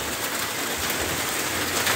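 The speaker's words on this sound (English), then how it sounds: "Well, more rain" Heavy rain pours steadily over a building site, a dense, even hiss of drops that holds at the same level throughout with no voices.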